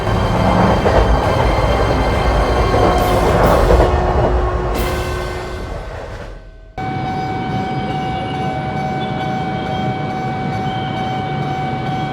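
A train rumbles along loudly and continuously, a broad rushing roar with rattling that suddenly drops and changes character, as if entering a tunnel, then carries on in a steady drone.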